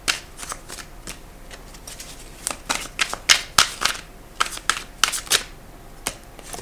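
A deck of tarot cards is shuffled by hand in a series of crisp, riffling bursts and quick flicks, close and clear, with no speech.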